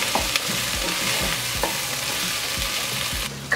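Onions, ginger and chilies sautéing in a pan: a steady close sizzle with periodic stirring scrapes and soft thuds, no talk.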